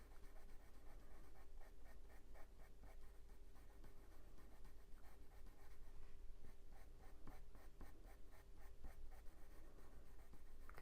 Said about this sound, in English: I'm just using light pressure. I'm not putting any pressure on the pencil really.